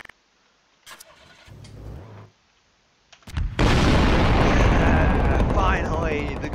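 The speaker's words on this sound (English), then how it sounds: "Finally, the good explosion." In Garry's Mod, a few quieter mechanical sounds are followed by a sudden loud explosion that rumbles on at full volume for several seconds.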